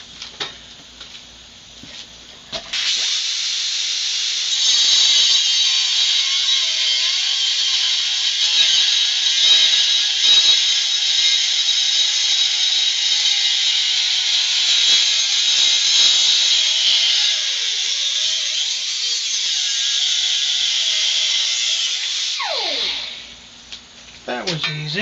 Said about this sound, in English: I find that the cutoff wheel in an angle grinder is much easier to control when you're trying to make a cut.